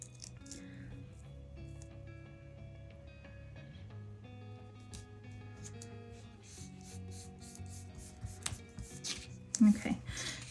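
Washi tape is smoothed onto a Happy Planner monthly spread page with soft, quiet rubbing strokes, mostly faint, with a brief louder rustle near the end.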